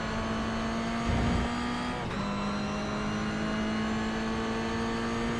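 Onboard sound from a Toyota or Mazda touring car racing at Zandvoort, a steady loud engine drone with a sustained tone, a brief burst of rumble, and a momentary dip as the car shifts gear.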